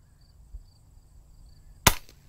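A 150-year-old Flobert Cadet .22 rifle fires a .22 short round in a single sharp, close crack near the end, after a quiet stretch with a faint earlier tap.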